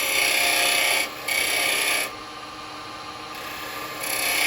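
A carbide chisel cuts a tenon into wood spinning on a lathe, a continuous hissing scrape with a high whine, close and steady, easing off briefly twice as the cut lightens.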